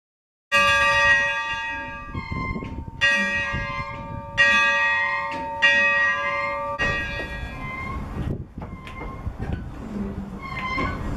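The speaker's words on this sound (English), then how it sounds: "you could even visit the locomotive's cabin, even sit where the engineer and fireman used to sit, and even ring the locomotive's bell" The bell of a preserved steam locomotive displayed in a park in Childress, Texas, is rung repeatedly. Several loud metallic clangs ring out in an irregular rhythm, each leaving a long shimmering ring, and no speech is heard.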